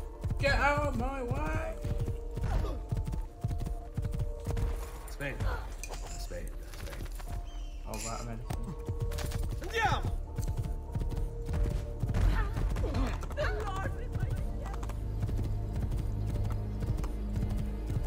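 Hooves clip-clop steadily as a horse is ridden in Assassin's Creed 2, with occasional whinnies and game ambience beneath, while a person talks over the riding.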